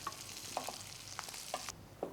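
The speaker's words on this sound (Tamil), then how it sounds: "மைல்டு ஃப்ளேமில் வந்து நம்ம இந்த வல்லாரைக்கீரையை வந்து வறுத்து எடுத்தாலே போதும்." Brahmi (vallarai) leaves are fried and stirred in ghee over a mild flame, a soft sizzle broken by several light, quick scraping stirs, close and faint.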